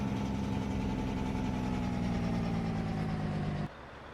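A tractor engine in Farming Simulator 22 drones steadily at a low, even pitch during a short drive to the silo, then drops off abruptly near the end to a quieter hum.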